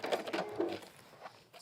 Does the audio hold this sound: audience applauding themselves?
no